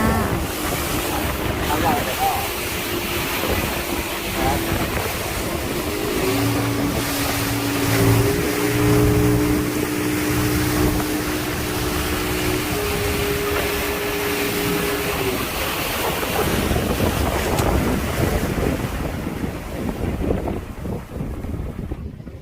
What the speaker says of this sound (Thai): นั่งสปีดโบ๊ทไปเลยจ้า